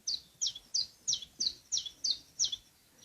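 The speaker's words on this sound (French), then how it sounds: "C'est le pouillot véloce." Common chiffchaff singing its even, repeated two-note song outdoors, about eight bright chirps in a steady rhythm, moderately close and alone with no other sounds.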